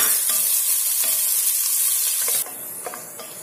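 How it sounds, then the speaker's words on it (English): Beans and carrot fry in a hot pan for vegetable rice, giving a loud steady sizzle with stirring scrapes that drops to a quieter crackle partway through. "Fry for some time."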